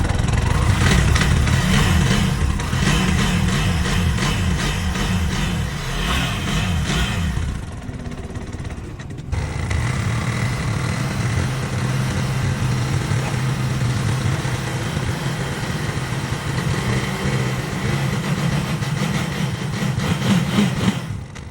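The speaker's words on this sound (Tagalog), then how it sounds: "sobrang ganda ng tunog, tahimik at pino ang makina natin" A Bajaj Maxima three-wheeler engine runs continuously, a steady throbbing putter with a brief dip partway through, close and loud, with no talking.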